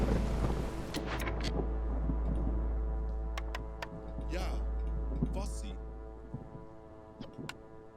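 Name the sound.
storm ambience, from the video game Against the Storm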